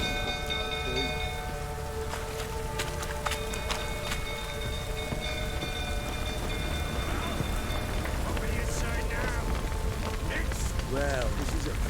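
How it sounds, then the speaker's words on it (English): Steady rainfall in The Witcher 3: Wild Hunt hisses throughout, with a continuous wash of drops, while voices and other game sounds come and go over it. "Looks like rain."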